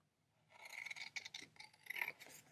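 Scissors cutting through thin cereal box cardboard, a soft rasping crunch of several short snips in a quiet room, fairly close.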